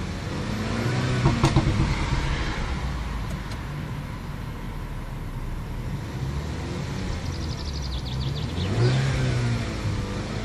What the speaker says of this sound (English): Now you can hear the engine voice.